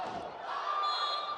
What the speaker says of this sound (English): And here the crowd are into it.